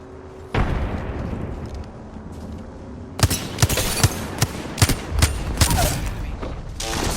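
Frag grenade blast followed by bursts of gunfire in the Apex Legends video game on PS4, a sudden loud boom then sustained rumbling with several sharp shots close by, with no talk.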